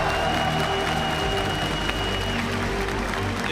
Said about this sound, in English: Des applaudissements pour les wildcards.